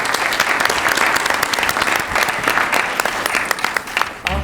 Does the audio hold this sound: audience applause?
yes